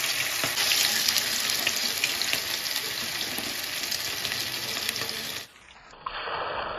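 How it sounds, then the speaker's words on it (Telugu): Small chicken pakoda pieces fry in hot oil, giving a dense, steady, close sizzle and crackle throughout that drops briefly near the end, then continues. "ఒక్కొక్క చిన్న చిన్న పీసులు అయితే వేసుకుందాము. అట్లా చికెన్ పకోడా."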